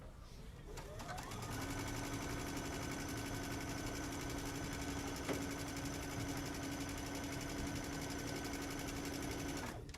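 A sewing machine pieces a quilt block with a steady, fast mechanical whir and needle chatter that starts after a second and runs nearly unbroken to the end, close and fairly loud.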